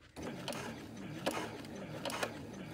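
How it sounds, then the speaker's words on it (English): A sewing machine stitching a tote bag handle, with a faint, steady mechanical whir and soft rhythmic clicks of the needle, quiet and close, with no talking. "if my machine skips some stitches, I will go back and sew over those areas"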